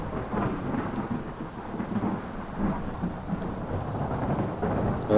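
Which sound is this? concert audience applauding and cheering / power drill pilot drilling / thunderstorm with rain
thunderstorm with rain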